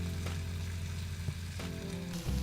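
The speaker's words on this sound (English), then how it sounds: "I just want the meat to cook a little in the barbecue sauce" Meat sizzling steadily in barbecue sauce in a hot pan, a continuous close frying crackle with small pops and no talk.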